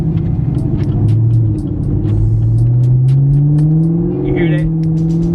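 Inside a Camaro ZL1 1LE with a muffler-delete exhaust, the engine rumbles deep and loud, then revs up in rising, drawn-out pulls, with brief voices over the steady drone.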